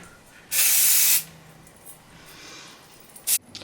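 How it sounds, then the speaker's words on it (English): Hairspray sprayed onto a ponytail in two hissing bursts: a longer close spray of under a second, then a quick short puff a few seconds later, with quiet handling in between. "I'll just add a tiny bit of hairspray to it."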